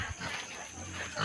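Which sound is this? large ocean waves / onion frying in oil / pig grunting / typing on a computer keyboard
pig grunting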